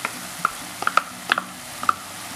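A spoon stirs Turkish pide filling mixed with garlic in a bowl, giving a handful of sharp, light clinks and scrapes spaced irregularly, close up and quiet between the taps.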